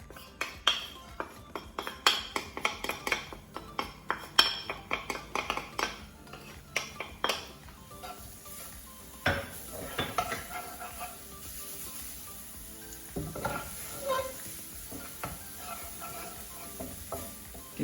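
Garlic going into a hot pan for a clam dish and being stirred: repeated metal clinks and scrapes of a utensil against cookware over a light sizzle, busiest at first and then sparser and quieter.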